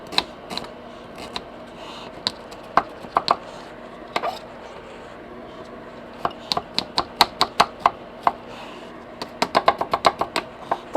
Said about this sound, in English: Cut your onions